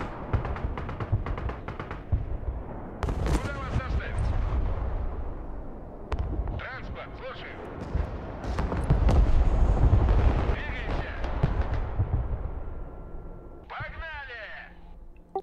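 Artillery fire in the war strategy game Broken Arrow: repeated booming blasts and scattered gunshots rumble through the scene under near-constant talking.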